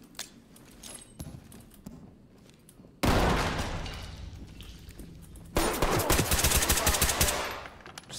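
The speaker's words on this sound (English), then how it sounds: "you're getting shot, you're getting shot" Automatic gunfire in the tactical shooter game Ready Or Not during a co-op mission, loud rapid bursts that cut in suddenly and then a second harder volley, with faint background sounds between.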